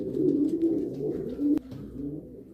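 Homing pigeons coo inside a loft, close and loud, with several overlapping throaty phrases and a sharp click or knock near the end before the cooing continues more softly.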